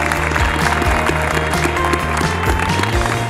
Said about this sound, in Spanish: Y yo les pido para ustedes mismos un fuerte aplauso